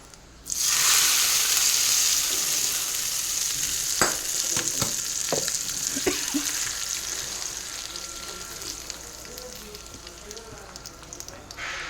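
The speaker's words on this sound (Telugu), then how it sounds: "ఇప్పుడు ఇంకా పోపు దాంట్లో పిక్కల్లోకి వేసేసుకుందాం" A tempering of asafoetida, dried red chillies and curry leaves crackles in hot oil and is poured into a tomato methi pachadi, a sudden loud sizzle with a few sharp pops and spoon clinks, easing off gradually.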